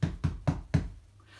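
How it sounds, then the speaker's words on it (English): Four firm knocks on a door of a strong brick house, evenly spaced and close, followed by a brief quiet tail. "the wolf arrived and knocked on the door"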